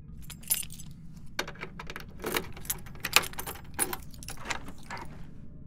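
Keys jangle and rattle repeatedly against an apartment door lock as it is unlocked, a close, busy metallic clinking that continues for several seconds without talk.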